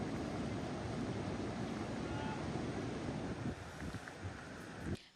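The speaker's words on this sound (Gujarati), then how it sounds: "ઓરસંગ નદી ઓવરફ્લો, છોટાઉદેપુર પાસેનો ડેમ ઓવરફ્લો થયો છે, જેના કારણે ઓરસંગ નદી બે કાંઠે વહેતી થઈ છે।" The Orsang river near Chhota Udepur runs in full spate after heavy rain and an overflowing dam, giving a steady, loud rushing roar of water that holds evenly throughout and thins slightly near the end.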